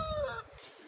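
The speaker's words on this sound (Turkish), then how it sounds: "Horoz sesi, tavuk sesi gayet güzel." A rooster and chickens at a summer house garden in Yeniçiftlik: a single short, close crow-like call that falls away after a fraction of a second into softer low clucking, with no talking.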